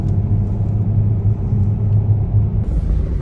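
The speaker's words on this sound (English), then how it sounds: "Car coming." A car passes along a mountain road in Morocco, a continuous low engine rumble that stays loud and close for about three seconds with no one speaking.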